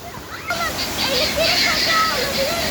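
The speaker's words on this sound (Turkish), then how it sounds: "Arkadaşlar bakın şurada derede şelale." A waterfall in a stream at a nature park in Keçiören, Ankara, rushes as a steady broadband wash of water. Children and adults talk over it, with short whistling sounds mixed in.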